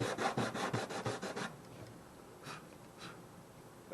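Sandpaper on a sanding block scrapes lacquer finish off a Fender acoustic guitar bridge, about ten quick rhythmic strokes up close, then a pause with two lighter passes, no talk.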